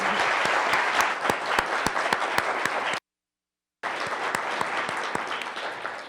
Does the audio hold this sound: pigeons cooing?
no